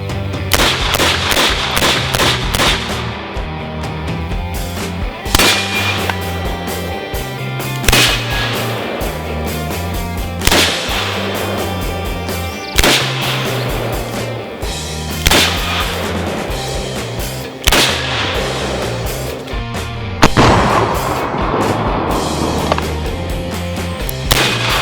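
A Taurus Raging Bull .44 Magnum revolver fires at a range, loud sharp booming reports spaced a few seconds apart, each ringing out over a constant background hum.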